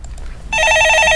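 A telephone rings on a live stock-market call-in broadcast, a loud, steady electronic trill that starts abruptly after a soft murmur of background noise.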